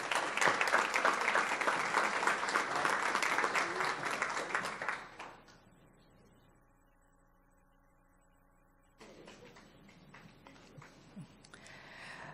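Applause from an audience at a school board meeting, a full dense round of clapping for about five seconds that then fades into quiet room tone, with scattered lighter clapping returning near the end.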